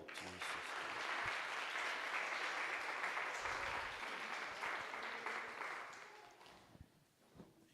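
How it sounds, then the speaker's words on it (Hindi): A church congregation claps hands in sustained, dense applause for several seconds, fading gradually toward the end, with no speech over it. "ताली बजाओ।"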